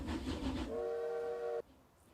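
In the railway strategy game Railroad Corporation, a freight train hauling wooden logs rumbles along, then sounds a steady two-tone horn for about a second before the sound cuts off abruptly to near silence.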